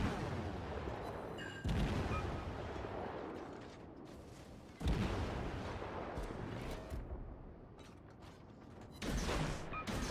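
Naval gunfire in the World of Warships video game: three heavy booming salvos crash in at spaced intervals over a constant loud mechanical rumble, with no voices.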